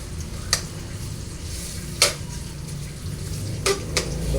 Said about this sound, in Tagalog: So lulutuin lang natin yung sibuyas saka yung garlic guys.